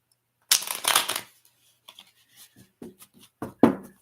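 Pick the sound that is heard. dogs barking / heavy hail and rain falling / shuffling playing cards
shuffling playing cards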